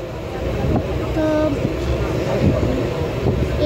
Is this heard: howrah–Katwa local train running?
yes